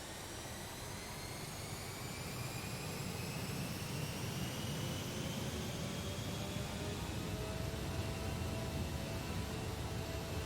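Jet engines of a Douglas DC-8 in the Prepar3D flight simulator spool up into a loud, continuous roar, with whining tones that climb steadily in pitch throughout.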